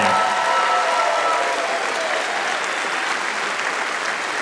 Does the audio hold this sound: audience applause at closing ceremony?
yes